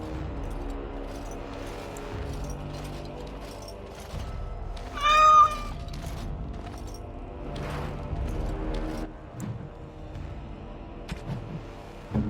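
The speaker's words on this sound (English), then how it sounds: "Oh, look at the cute little kitty" A small cat in a fantasy role-playing game gives one clear, loud meow midway, standing out from a quiet ambient background of faint rustles and soft clicks.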